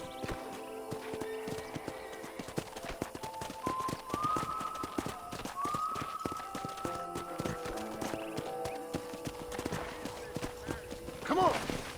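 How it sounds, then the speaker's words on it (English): Horse hooves clip-clop steadily on a ranch in the video game Red Dead Redemption, a continuous trotting patter mixed with game music and a whinny near the end, while a voice talks over it. "I picked out a fine horse for you."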